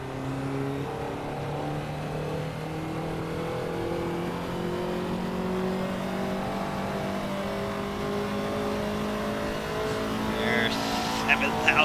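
A Ferrari 288 GTO engine in the Assetto Corsa racing game holds a steady, droning rev as the pitch climbs slowly, then rises sharply at the end, with no speech over it.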